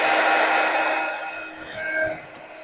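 A heat tool blows steadily while melting embossing powder on a card, a loud close whooshing hiss that dips slightly midway and then rises again, with no talking.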